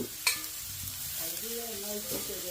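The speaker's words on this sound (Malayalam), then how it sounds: "വീണ്ടും നമുക്ക് വഴറ്റി തുടങ്ങാം" Five sliced onions saute in pork fat with a low, steady sizzle as a spatula scrapes and taps the pan now and then, close by and fairly quiet.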